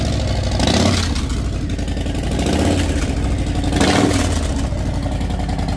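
A loud Harley-Davidson motorcycle engine runs continuously, rumbling and swelling in a few revs before settling back to a steady throb.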